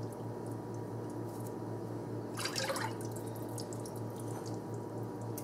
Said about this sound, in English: I take my milk and refill the can and just give it a little swirl